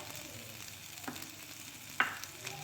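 Chicken pieces frying in a pan give off a soft, steady sizzle close by, with a few brief spatula scrapes and one sharper clink near the end. No one speaks.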